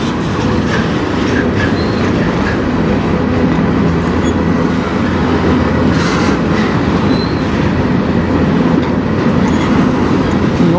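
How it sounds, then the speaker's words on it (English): A CN freight train rolls past close by in Sarnia, Ontario, a steady loud rumble with clickety-clack of wheels over rail joints and faint squeals, continuous throughout with no talking. "I think this is my 9th or 10th train today"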